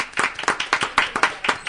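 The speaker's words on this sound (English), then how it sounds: "We'll give you a clap anyway." Audience at a City of Millville award ceremony claps in a brief, moderately loud patter for absent honorable-mention honorees, roughly ten distinct claps in quick rhythm.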